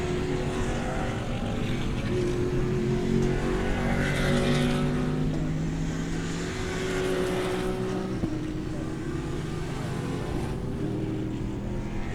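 GT and Spec Corvette race cars at Daytona roar past, engines droning and shifting pitch as they go by at medium distance, with a continuous layered motor hum throughout.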